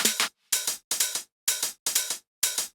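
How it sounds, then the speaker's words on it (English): Loop of self-made hi-hats layered together, crisp bright ticks falling in short pairs with brief silent gaps between, a tight repeating pattern, close and alone. "all the hi-hats together sound like this"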